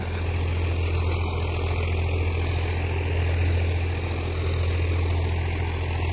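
A Swaraj 744 XT HLM tractor engine runs at a steady, unbroken diesel drone, loud and close throughout with no talking.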